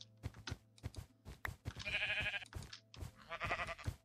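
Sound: sheep bleating in the video game Minecraft

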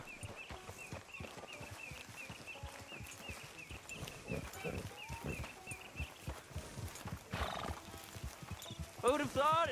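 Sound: horse galloping and whinnying in Red Dead Redemption 2 video game

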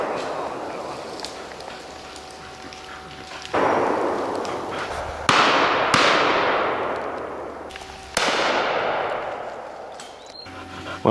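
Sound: shotgun shots at a pheasant shoot

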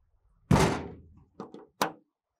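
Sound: closing door panels on FlexiROC drill rig

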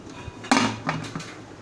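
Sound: pressure cooker lid placed on cooker

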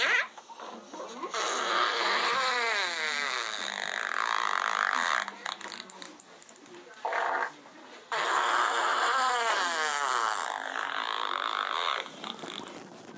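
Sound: guinea pig farting

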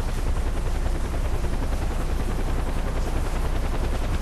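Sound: helicopter flying overhead in video game Far Cry 4

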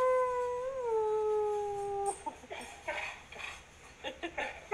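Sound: dog howling

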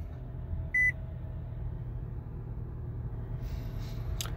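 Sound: 2019 Nissan Pathfinder S startup chime when turned on

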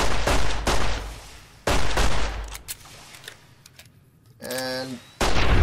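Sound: gunshots, from video game Fallout New Vegas

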